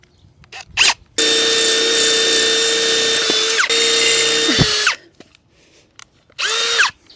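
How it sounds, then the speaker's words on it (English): A power drill with a 3/16-inch masonry bit drills through a birdbath, whining steadily for several seconds, pitch dipping as it bites, after a couple of short bursts, then one more brief run at the end. "I'm gonna follow it up with a 3/16 inch masonry bit to drill all the way through."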